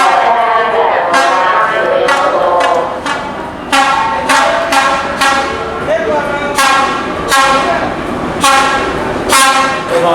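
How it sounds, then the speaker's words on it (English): A train pulls into the platform at Hue station in Vietnam, loud and close, with a steady rumble of passing rail cars, rhythmic clacks from the wheels and a horn sounding, while voices murmur faintly. "Can't wait to see this train."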